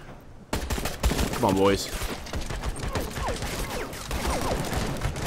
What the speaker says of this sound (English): Our guys are getting some pretty effective shots from over here.